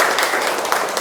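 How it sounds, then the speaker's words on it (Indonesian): Classroom students clapping together in a dense, steady burst of applause that lasts about a second at moderate loudness, with no voices over it. "Beri tepuk tangan untuk kalian semua."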